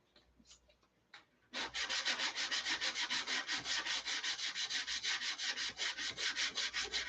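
After a few light taps, a sanding block rubs back and forth over filled wood in quick, even strokes, a close rhythmic scratchy rasp repeating to the end.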